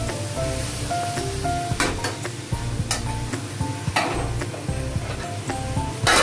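Spices fry in oil for a home-style biryani, with a steady sizzle and repeated metal spoon scrapes and taps against the pan. The stirring comes in irregular bursts up close.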